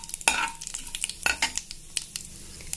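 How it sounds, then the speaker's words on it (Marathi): A tempering of cumin, mustard seed and curry leaves crackles in a pan while a spoon stirs it, with short scraping clicks and light sizzle up close. "आता आपण हे सगळं असं हलवून घेऊया।"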